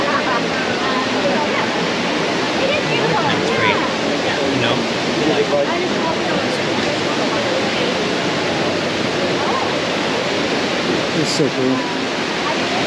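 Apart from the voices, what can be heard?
waterfall beside a bridge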